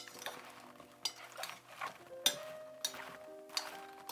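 Eggplant pieces are mixed with salt in a bowl, producing soft, close clinks and scrapes of a utensil against the bowl in irregular bursts, with quiet gaps between.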